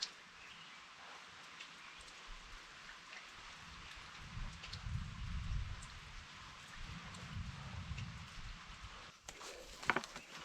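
Light rain patters steadily with soft scattered drips, faint and close, accompanied by a low rumbling background.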